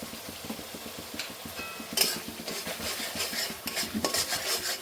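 Spices with chili powder, turmeric and salt are stirred and fried in a pan, giving a soft sizzle under repeated scraping and clinking of a metal spoon against the pan, with a sharper clatter near the middle.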